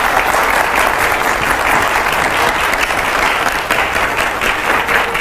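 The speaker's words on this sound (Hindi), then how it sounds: "मैं चाहूंगा जरा जोरदार तालियां हो पहले हमारे रैपिड फायर राउंड के लिए।" A large audience at a live televised event applauds loudly and steadily, a dense, continuous wash of clapping that holds at full volume from start to finish.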